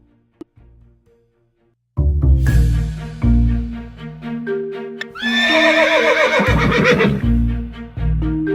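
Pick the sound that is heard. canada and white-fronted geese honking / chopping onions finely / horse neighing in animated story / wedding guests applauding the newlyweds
horse neighing in animated story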